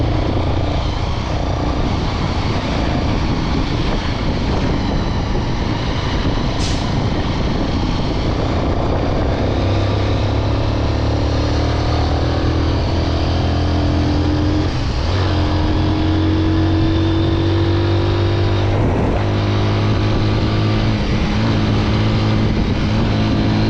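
A five-year-old Bajaj Pulsar motorcycle engine running steadily, a loud continuous drone with rising revs and shifting pitch, no talk over it.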